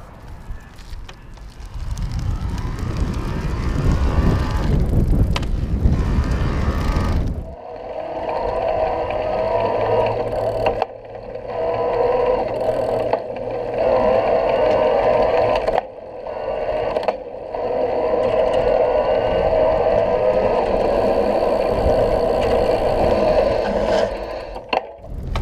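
A Focus Aventura Impulse 2.0 electric bike on the road climbing a hill: heavy wind rush at first, then a steady whining motor hum with brief dips, loud and close.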